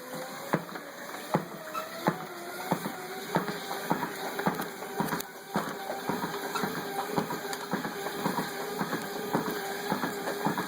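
A running treadmill keeps up a steady mechanical hum, with sharp rhythmic clacks about every half second as the belt turns and footsteps land, plus faint high electronic whine throughout.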